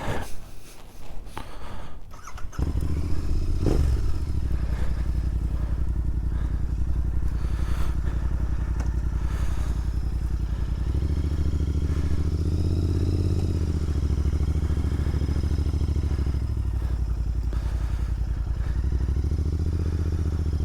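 Royal Enfield Interceptor 650 ridden on a cold moorland road, a loud steady engine drone with heavy wind rush that holds through the whole run after a brief burst of handling noise at the start.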